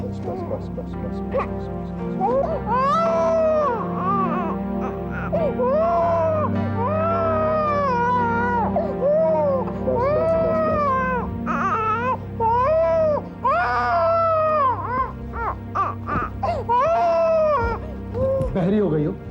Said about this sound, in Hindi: बहरी हो गई हो, बच्चा रो रहा है, सुनाई नहीं देता?